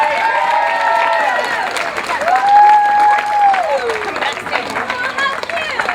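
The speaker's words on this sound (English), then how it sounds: "You're all clapping because you weren't picked" A Renaissance fair crowd claps and cheers outdoors while a performer's voice rings out loudly over the steady applause.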